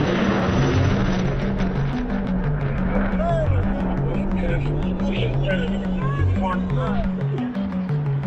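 A jet aircraft makes a high-speed low pass near Mach 1 at about 200 feet over show center, a loud, sustained roar that fills the whole stretch. A voice speaks over it.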